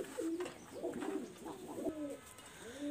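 A pair of Teddy pigeons coo close by in soft, rolling phrases, several low bubbling calls in a loose rhythm, with no one speaking.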